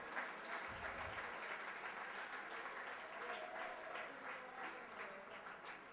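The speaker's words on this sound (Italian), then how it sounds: "Un applauso a tutti quanti loro." Steady applause from an audience at a futsal awards gala, a continuous wash of clapping at moderate distance that holds evenly throughout.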